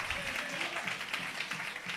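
A church congregation breaks into sustained, dense applause, a steady loud wash of many hands clapping at close range, with speech faintly underneath.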